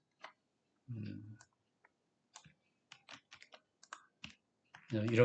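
Sharp computer mouse clicks and light keyboard taps come one at a time, close and fairly quiet, while a speaker talks briefly at the start and again at the end.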